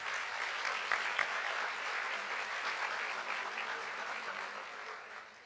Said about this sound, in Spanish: El primer aplauso de la noche es para todos ustedes